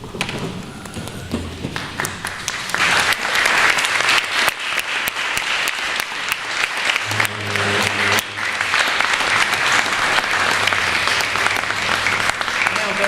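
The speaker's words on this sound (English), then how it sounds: "can everyone please stand and applause as I present this to Secretary" Attendees at a meeting stand and applaud, scattered claps building into steady, loud, sustained applause with some thumps of movement, close and continuing for over ten seconds.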